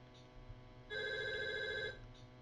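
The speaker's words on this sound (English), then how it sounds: "Oh, now the phone's ringing." A telephone in the Clock Tower II video game rings once, a bright electronic trill lasting about a second, clear over low ambient game sound.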